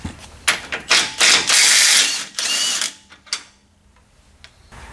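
Worn Chevy 3500HD rear end gears with excessive backlash, giving loud irregular mechanical clunks and ratcheting bursts up close, clustered early then trailing off into a few faint knocks.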